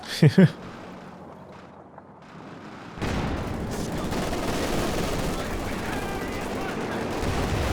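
Rapid vehicle gunfire in a Company of Heroes 2 battle: one short sharp burst, a quieter lull, then a dense sustained clatter of firing and battle noise from about three seconds onward.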